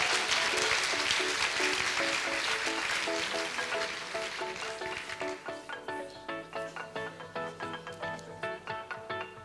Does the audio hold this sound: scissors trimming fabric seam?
no